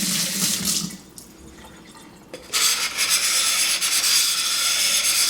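Wet sanding with a Saber Tooth 400 grit diamond sanding pad: a steady watery rubbing and scraping, close up, easing off briefly midway before resuming at full strength, with no voices.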